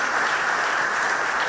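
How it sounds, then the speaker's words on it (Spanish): Applause from about 160 Partido Popular officials and political representatives, a dense, even wash of clapping filling a hall. "Aplausos de los suyos, unos 160 altos cargos y representantes políticos del Partido Popular."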